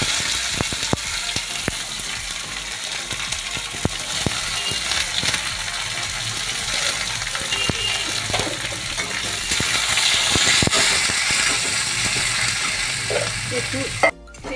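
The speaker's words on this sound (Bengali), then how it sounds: "একটু পেঁয়াজটা একটু ভাজা ভাজা হয়ে এসেছে" Chopped onions fry in hot oil with cumin seeds and bay leaf, giving a steady close sizzle with scattered clicks from stirring. The sizzle rises slightly near the end before a sudden clatter.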